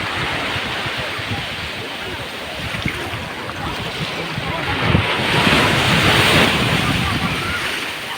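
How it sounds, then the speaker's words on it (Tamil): Rough sea waves surge and crash steadily on the beach at Tiruchendur, loud and continuous under heavy wind buffeting, swelling toward the end. "கடல் பார்த்துங்க அழகாக பார்த்தீங்கன்னா செம சீற்றமாக இருக்குது"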